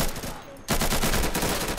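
Rapid gunfire in the game Insurgency, a brief shot, then a dense, loud burst of repeated automatic fire close by.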